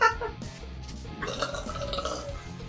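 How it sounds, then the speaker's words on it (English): A person burps after drinking water, a gurgling belch that opens loud and then trails into a rough, drawn-out rumble lasting a couple of seconds, with nobody talking. "Water makes me burp."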